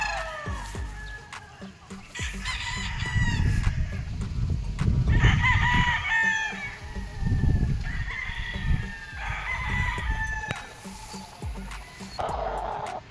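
Gamefowl roosters, including a 3-way cross, crow loudly and repeatedly at a gamefarm, several calls overlapping, with hens clucking and farmyard noise underneath.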